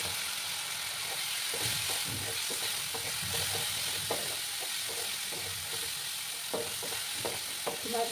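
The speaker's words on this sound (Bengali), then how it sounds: "মশলাটাকে একটু সময় আমি কষিয়ে নেব" Spice paste with ground coriander and a splash of water frying in a pan for taro root gravy, a steady close sizzle broken by repeated scraping stir strokes throughout.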